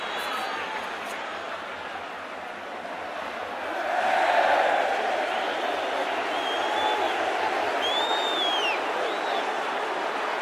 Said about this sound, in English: a sold-out crowd in OGB Stadium